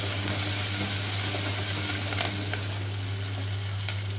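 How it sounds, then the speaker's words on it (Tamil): Onions sautéing in a pan for tomato sambar, a steady close sizzle and crackle of frying with a constant low hum beneath and a few faint stirring clicks. "வெங்காயம் இன்னும் கொஞ்சம் வதங்கட்டும்."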